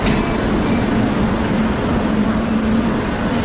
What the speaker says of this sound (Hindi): फाइनली हम लोग की ट्रेन एंटर कर रही है हावड़ा का WFP7 लोकोमोटिव के साथ में वेस्ट बंगाल संपर्क क्रांति।